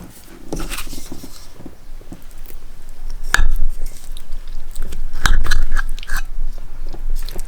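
Someone eating loco moco chews and bites close to the mic, with soft wet mastication and a couple of louder crunchy bites. Faint utensil clinks sound now and then.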